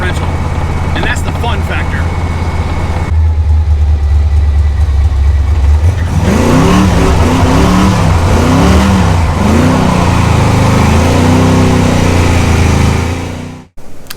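A Chevrolet Monte Carlo with a welded differential idles, then revs hard and accelerates in loud repeated surges, the engine note rising and falling up close until it cuts off abruptly.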